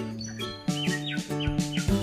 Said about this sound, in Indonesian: Burung yang memiliki nama resmi Kancilan Flores atau yang populer disebut Samyong oleh kicau mania ini termasuk burung yang memiliki suara yang keras menggelegar.